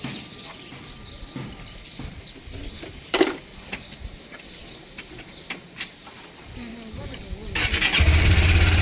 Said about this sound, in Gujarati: આપણું બાઇક રેડી છે એને થોડુંક વોર્મઅપ કરી લઈ